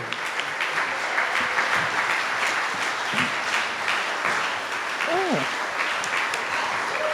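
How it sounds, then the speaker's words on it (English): An audience at an NAACP Founder's Day event claps in sustained, even applause throughout, with a few faint voices and a brief exclamation rising through the clapping. "Give her a rousing applause for her courage and for her commitment."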